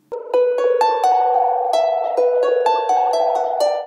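A harmonica lead line runs through a Dreadbox Raindrops effect, playing bright, sustained melodic notes with repeating echoed plucks. It is clean, close and steady with no talk.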